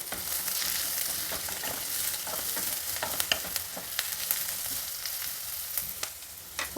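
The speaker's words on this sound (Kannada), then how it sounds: "ಎಲ್ಲ ತರಕಾರಿಗಳು ಚೆನ್ನಾಗಿ ಫ್ರೈ ಆಗಿದ್ದಾವೆ" Mixed vegetables with turmeric frying in a pan, a continuous moderate sizzle with regular scraping stirs of a spoon, no voices.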